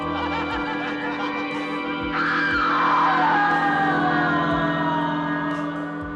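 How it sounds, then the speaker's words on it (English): A woman's final, deafening scream in the film Carnival of Souls rises loud and sustained, with a wavering pitch that slides downward, over a dense droning soundtrack with rhythmic low pulses. "Mary lets out one final, deafening scream"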